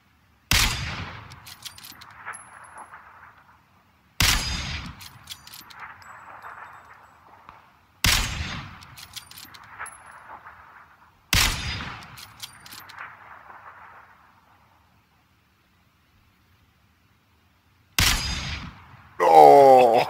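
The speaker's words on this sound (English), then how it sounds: "That was a big explosion." Explosions and gunfire in the battle royale game PUBG, four sharp booms each trailing off in a long rumbling decay, evenly spaced, then a final blast followed by a short burst of noise.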